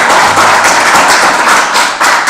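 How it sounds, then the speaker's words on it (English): Close, loud polite clapping from an audience at a city council meeting, a brisk stream of overlapping hand claps that carries on steadily without pause. "A lot of golf claps this evening"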